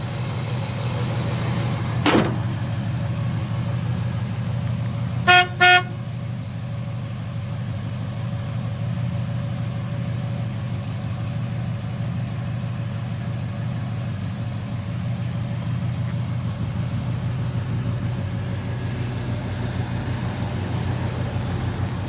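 A 1966 Chevrolet Chevelle Malibu with headers and dual exhausts idles steadily with a low, even rumble, broken early on by a sharp click and a brief clattering burst.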